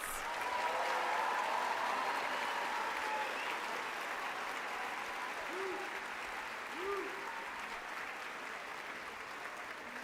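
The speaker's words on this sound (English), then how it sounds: "can we have one more round of applause for our graduates?" Sustained applause for graduates from a large crowd at a middle school graduation ceremony fills the whole stretch, steady and dense, with a few faint voices and whoops rising above the clapping.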